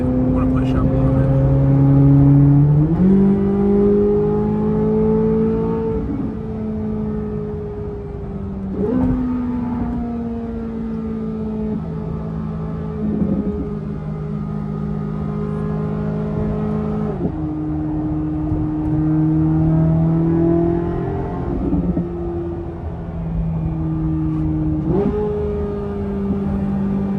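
A Corvette C8 Z06 engine accelerating on a night drive, rising through repeated gear shifts in a steady climb-and-drop pattern, loud and close from inside the car.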